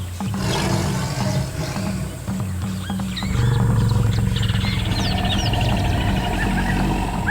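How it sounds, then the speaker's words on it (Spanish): An African savanna soundscape carries deep, repeated roars from big cats over a dense, constant bed of birdsong and insect chatter, with a low rumbling layer underneath, loud and continuous without any voices. "Así suena la sabana africana de nuestros días"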